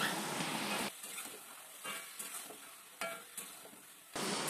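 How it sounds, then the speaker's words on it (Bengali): Mutton is sautéed with yogurt in a pan, with a faint sizzle broken by bursts of louder frying and spoon-stirring scrapes at the start, in the middle and at the end. "এই দেখো আমি আবারও কিছুক্ষণ কষিয়ে নেব।"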